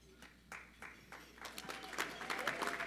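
Audience at a university's Martin Luther King Jr. Community Leaders Celebration applauding Richmond Public School principals; scattered claps first, then swelling into steady, fuller applause from a fairly distant crowd.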